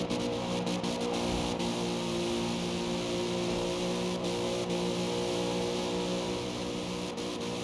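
A car engine in the racing video game Forza Horizon 2 revs hard and holds a loud, steady high-pitched drone for several seconds, with no voices over it.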